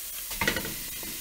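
Venison burger and onions sizzle over medium heat in a non-stick skillet, a soft steady hiss with a brief louder burst of frying and stirring near the start.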